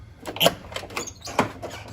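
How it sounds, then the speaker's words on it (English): Squeaky doors of a used, dusty Jeep Cherokee XJ on one-ton axles and 37-inch tires, heard as several short creaking bursts from opening and closing, close and fairly loud with no talk. "Squeaky doors. That's how you know it's a real Cherokee. The doors sound like crap."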